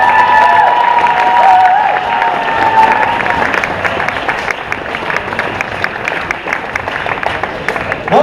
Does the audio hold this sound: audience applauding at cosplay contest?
yes